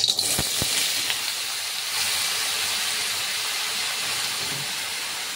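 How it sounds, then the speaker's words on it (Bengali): Pieces of bottle gourd dropped into hot oil in a heated wok, a brief clatter at the start followed by a steady hissing sizzle that continues throughout. "এবার আমি লাউটাকে দিয়ে দিচ্ছি।"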